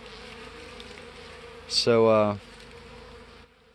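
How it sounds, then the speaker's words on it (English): Honey bees robbing an open hive in spring, with frames left exposed: a steady insect buzz and hum runs throughout, and someone says a short word halfway through. "I'll let these bees that are robbing it clean the frames up"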